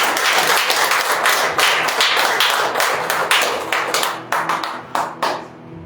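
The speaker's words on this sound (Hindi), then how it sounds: "ताली बजाते हुए हम परमेश्वर का दास को आगे बुलाते हैं" A church congregation claps together during a worship service, a dense, loud and steady patter that thins into a few scattered final claps at the end.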